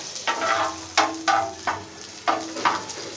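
Finely chopped onion fries in a pan for street-style mini burgers, a soft sizzle punctuated by several sharp spatula scrapes and stirs at close range.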